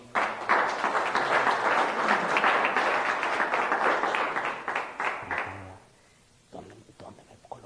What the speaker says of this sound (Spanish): Un aplauso, lo recibimos.